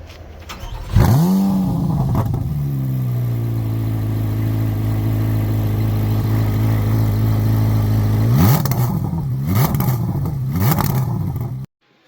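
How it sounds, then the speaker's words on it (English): A stock exhaust on a Corvette Z06 settles into a loud, steady idle after a first rev, then barks out a quick run of three or four sharp throttle blips before cutting off. "Let's hear how this stock exhaust sounds."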